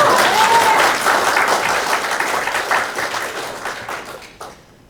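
A church congregation applauds its newly installed pastor at an inauguration thanksgiving service, full dense clapping that starts strong and gradually fades away over a few seconds to near silence.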